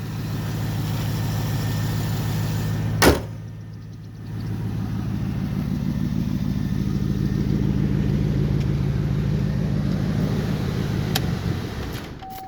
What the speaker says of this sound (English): I'm gonna turn the car off so you guys can hear me better.